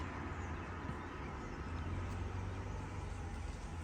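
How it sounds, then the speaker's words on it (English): A car goes past close by, a loud steady roar of road and engine noise filling the whole stretch without a break. "sorry, that car is rather loud."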